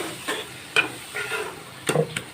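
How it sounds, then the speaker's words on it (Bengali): Spice paste for a Bengali jackfruit curry being stir-fried in a pan, with soft scraping stirs and a faint sizzle, a few sharper clicks of the spatula against the pan, close and fairly quiet. "এবার একসঙ্গে মশলাটাকে আমি ভালো করে কষিয়ে নেব।"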